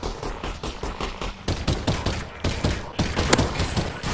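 Rapid pistol gunfire in Half-Life: Alyx, a dense run of loud, overlapping shots fired in quick succession with no pauses across the whole stretch.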